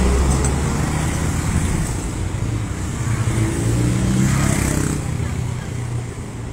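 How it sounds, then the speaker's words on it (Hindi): Roadside traffic jam: a dense, continuous roar of cars and motorcycles idling and creeping past nearby, with engines swelling and easing, while voices talk underneath. "देखो जाम लग गया इधर 2 मिनट में।"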